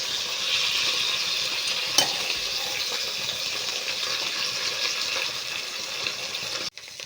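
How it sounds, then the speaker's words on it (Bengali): Prawn paturi wrapped in leaves frying over low heat in mustard oil, giving a steady, moderately loud hiss with a brief crackle and a sudden knock near the end. "এবারে আমি পাতা দুটো বসিয়ে দেব, দিয়ে ধিমে আঁচে ভালো করে 2 পিঠ ভাজবো"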